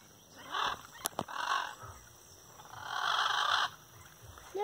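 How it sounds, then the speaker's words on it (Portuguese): Macaws gathering at their roost in a buriti palm grove give loud, harsh squawking calls in several drawn-out bursts, with a couple of sharp clicks between them. "Tá chegando cada vez mais arara."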